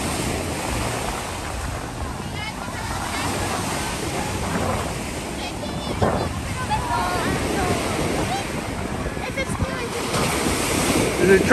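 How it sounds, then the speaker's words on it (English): Choppy sea waves wash continuously onto Stavros beach in Greece, a loud, steady surf with heavy wind buffeting the microphone throughout. "Choppy water, a little bit,"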